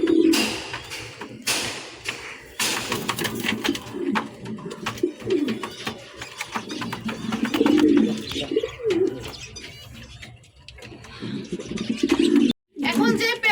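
A Maltese pigeon pair coos low and repeatedly, close by, with some chirps and thumps from the birds and a person talking in the gaps.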